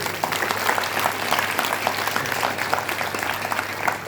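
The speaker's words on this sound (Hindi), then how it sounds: "ताली बजा लो अपने लिए।" Sustained applause from a large crowd at a religious Gita discourse gathering, steady dense clapping throughout without pause.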